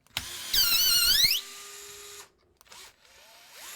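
Power drill driving screws into the shock towers of an Axial SCX10-3 RC crawler, a close, loud whining spin-up of about a second, then quieter tool sounds and short squeaks.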